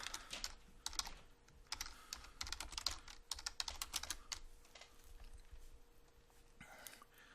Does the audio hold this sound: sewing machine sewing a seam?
no